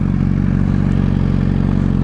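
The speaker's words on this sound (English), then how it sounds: "let's start the bike so you can hear what this exhaust is like" A 2016 Honda CBR1000RR Fireblade SP sport motorcycle with a full exhaust system idles loudly and steadily up close, a deep throbbing exhaust rumble with a slight clattery texture and no revving.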